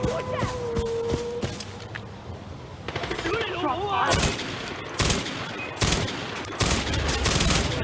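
Machine gun fire in the video game Far Cry 4, several loud rapid bursts of rattling shots mixed with game effects, with someone talking under and between the volleys.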